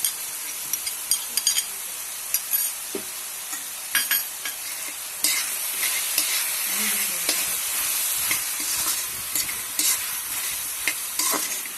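Banana flower fry being stirred with masala paste in a pan, bursts of sizzling frying punctuated by spatula scrapes and clinks, irregular stirring strokes close up with no talking.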